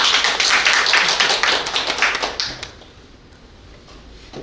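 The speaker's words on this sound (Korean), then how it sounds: "세 분을 뜨거운 박수로 다시 모시겠습니다." An audience at an industry forum panel discussion gives a brief round of applause, a crisp patter of many hands that thins out and stops after about two and a half seconds, leaving quiet room noise.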